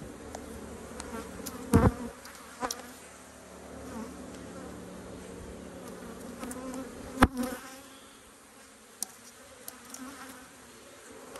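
Honey bees buzz around a hive at an apiary, a steady close drone with individual bees passing near, a couple of brief knocks and thumps breaking the continuous humming.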